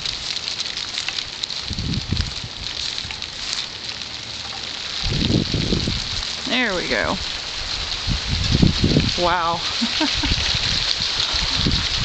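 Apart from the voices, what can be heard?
rain falling, heard from a porch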